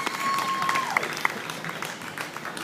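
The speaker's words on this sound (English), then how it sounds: "make some noise for Tania Hassel, everyone." Audience applause at a poetry event in Bermuda, a steady crowd clapping that fills the whole stretch with dense noise, a few sharper claps and a whistle-like tone standing out, and no one speaking over it.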